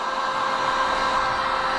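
A heat gun blows hot air onto a hot tub headrest hose, a steady, close whooshing roar holding constant with no breaks or talking.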